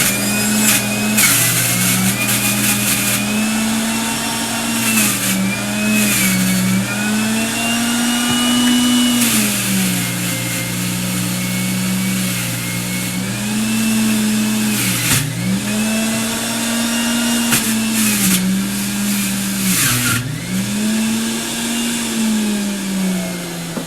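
A juicer grinds carrots, apple and ginger in a steady loud motor whine that dips and surges in pitch every few seconds as pieces are fed in, running alone for the whole stretch.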